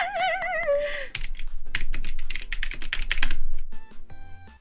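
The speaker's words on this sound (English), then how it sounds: "Oh typing." Rapid keystrokes on a computer keyboard clatter in dense bursts for about three seconds, preceded by a brief tonal warble and followed by faint electronic tones, with no talking.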